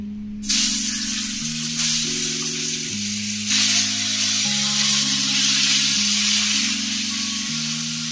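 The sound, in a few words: potatoes frying in oil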